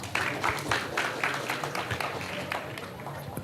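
A conference panel audience claps in welcome, a brief burst of scattered hand claps from a seated crowd that swells and then fades over a few seconds, with a loud knock at the very end.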